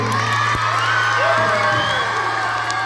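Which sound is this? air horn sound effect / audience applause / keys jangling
audience applause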